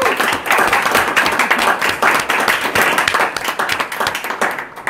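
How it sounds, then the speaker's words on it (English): A small room of Toastmasters club members gives a round of applause for the evening's host, with lively, close hand clapping in quick irregular bursts that keep going for about five seconds without speech. "Give a round of applause for him hosting that."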